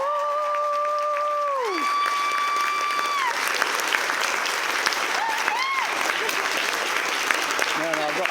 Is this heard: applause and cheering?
yes